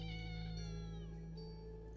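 Cat meowing in a video game, a sustained, clear, tonal mew with drawn-out, sliding pitch over steady background game music, with no talking.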